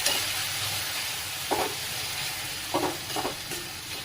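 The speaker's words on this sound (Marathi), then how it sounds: "गाजर छान असं परतून घ्यायचंय व्यवस्थित." Grated-free carrots sautéing in a little ghee for carrot halwa, a steady soft sizzle with a few brief spoon scrapes and stirs against the pan, close and moderately quiet.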